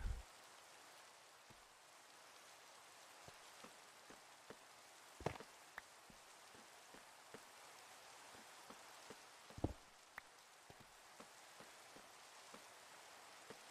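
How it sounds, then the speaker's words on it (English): Steady rain in the Minecraft video game, a soft broad hiss that stays even throughout, with scattered sharper drip and tap sounds, a few louder ones standing out near the middle. "it took a whole hour for the server to have some rain"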